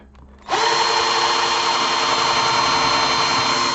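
A power drill bores holes into a metal chassis, starting abruptly after a brief quiet moment and then whining steadily and loudly at a constant pitch until the end.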